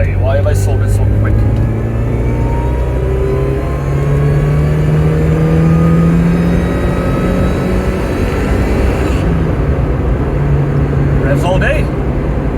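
A supercharged Mazda MX5 engine drones and rises in revs while driving, with a steady high whine of the supercharger over it, loud and close, and someone talking over it at points.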